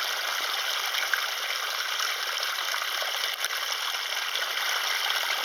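Cold water runs steadily over petrified wood, around 115 million years old, as it is washed, a continuous close splashing hiss with no voices.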